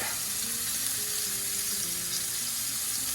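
Onion and garlic sizzle in hot olive oil in a pan, a steady close crackling hiss running throughout with no talking.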